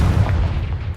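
A Confringo spell explosion in Hogwarts Legacy, a deep, rumbling boom that fills the moment with a heavy low-end blast and a fading roar, loud and close.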